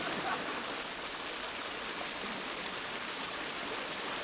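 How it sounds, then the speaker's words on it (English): A brook running strongly after heavy rain, a steady broadband rushing of water, close and constant throughout with no talk. "here we are at Kelso's Brook. Fine flow this morning"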